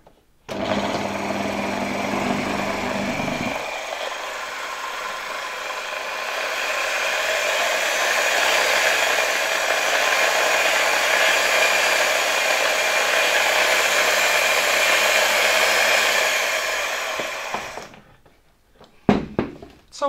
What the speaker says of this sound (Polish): Całkiem fajnie działa ta wiertarka